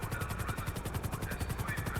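A helicopter sets down in the middle of a street in the video game GTA 5, its rotor giving a steady, fast, rhythmic chop that stays loud and even for the whole stretch, with no voices.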